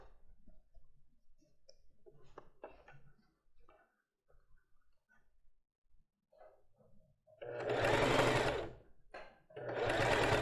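A sewing machine stitches lace bra fabric in two short bursts near the end, after a stretch of quiet fabric handling and small clicks.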